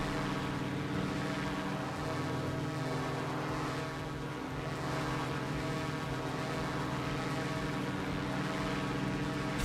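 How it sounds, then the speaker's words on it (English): Steady droning hum of the EA-7 Edgley Optica's ducted-fan engine in Microsoft Flight Simulator 2020, a constant tonal buzz with layered harmonics holding evenly throughout, with no talk over it. "Oh, nice engine sound."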